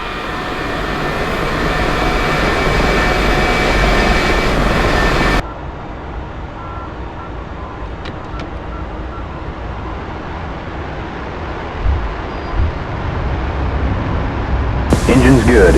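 F-4 jet engine in the DCS flight simulator game during the takeoff roll, a loud broadband roar that drops abruptly to a quieter steady rush, then swells again at the end, with a voice talking over it.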